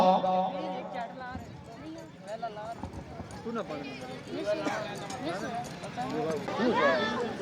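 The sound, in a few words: horse galloping at tent pegging event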